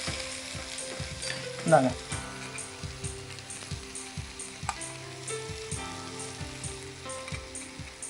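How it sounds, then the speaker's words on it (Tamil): Chopped ridge gourd sizzles loudly in a hot pan in a TV studio kitchen, a dense continuous frying hiss with regular scraping and clinking from a ladle; a voice speaks briefly. "இப்போ கட் பண்ணி வச்சிருக்கிற பீர்க்கங்காயை போட்டாச்சு."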